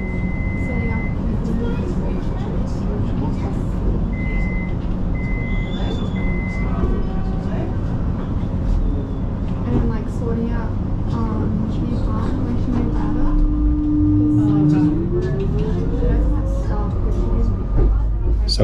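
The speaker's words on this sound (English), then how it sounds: "we're just heading down into the city loop, and we're departing parallel to the Mernda train over there" A Melbourne suburban train running down into the city loop, running parallel to a Mernda line train, gives a constant interior rumble with a rising motor whine near the end.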